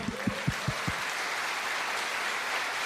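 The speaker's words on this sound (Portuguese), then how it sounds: "eu vou aplaudir ao Senhor" A church congregation claps about five times in a quick, even rhythm, and the clapping then fades into quiet room noise. The claps sound fairly soft and a little distant.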